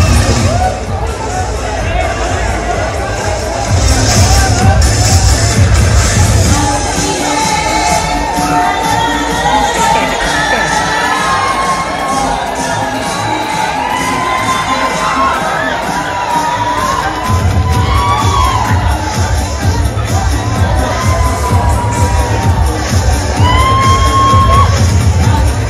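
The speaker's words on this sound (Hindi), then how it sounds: "बहुत बहुत ज़्यादा भीड़ है यहाँ पे" A large crowd cheers, whoops and shouts continuously at the Chandigarh Rose Festival at night, with children's shouts and dense babble filling the air, loud and sustained, with occasional bangs and voices close by.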